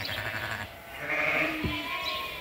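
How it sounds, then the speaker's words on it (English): Sheep bleat inside a barn full of ewes and lambs, a couple of clear nearby bleats over a steady low background hum. "You gotta have long sheep, high capacity ewes, which are long and wide, can support good multiple lambs."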